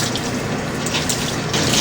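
Tap water runs steadily into a sink while a makeup powder puff is rinsed and squeezed under it, a loud close continuous splashing rush.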